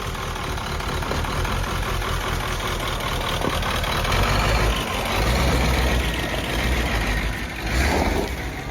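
A rat rod car engine runs steadily up close, a rough low rumble with slight swells in level and no talk over it.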